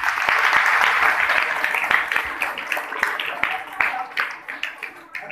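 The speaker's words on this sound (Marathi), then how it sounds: "टाळ्या वाजवा त्यांच्या." Steady applause from a classroom of seventh-grade students clapping for the girls' group, a dense crowd of hand claps sustained through the whole stretch and tapering slightly toward the end.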